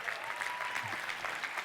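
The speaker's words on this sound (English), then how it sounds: "Can we give him a round of applause?" A podcast audience applauds, a dense, steady clatter of many hands clapping close by for nearly two seconds with no voices over it.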